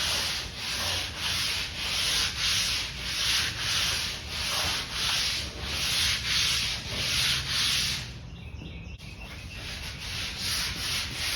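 Hand sanding of drywall compound on a model train layout's main line, a rhythmic series of about a dozen loud, close rasping strokes back and forth, pausing near the end, no talking.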